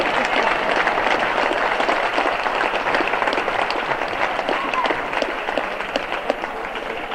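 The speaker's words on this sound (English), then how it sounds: "if you please stand, please, so we can give you a good hand of applause" A crowd at a boys' basketball game gives a long, loud round of applause for the current and past coaches, dense clapping that carries on steadily throughout.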